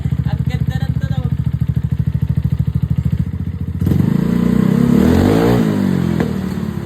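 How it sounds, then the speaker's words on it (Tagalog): A Mio Sporty motorcycle with a 59 block engine runs without a silencer. It idles with a loud, rapid, even exhaust putter, then revs up sharply into a roaring, rising and falling burst. "Kailangan maangas yung tunog ng motor natin."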